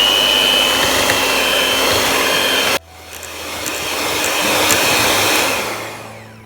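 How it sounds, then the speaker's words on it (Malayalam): An electric hand mixer beats cream cheese, sugar, cream and vanilla essence for a cup cheesecake, whirring loudly and steadily, then cutting out abruptly before a quieter motor hum rises and fades. "എന്നിട്ട് നല്ല സ്മൂത്തായിട്ട് ബീറ്റ് ചെയ്തെടുക്കുക."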